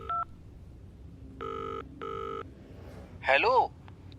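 A phone being dialed for a night call to a police station contact: a short beep, then two long repeated ringing tones, followed by a brief warbling burst, all fairly quiet.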